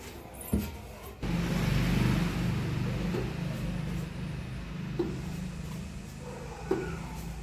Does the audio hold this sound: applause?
no